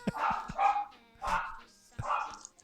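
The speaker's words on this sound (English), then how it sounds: "Now that dog barking, was that in the background?" A dog barks a few times in the background, sharp repeated barks in quick bursts, fairly faint and distant.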